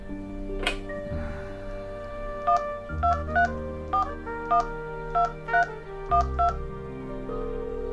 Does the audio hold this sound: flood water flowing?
no